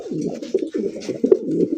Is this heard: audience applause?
no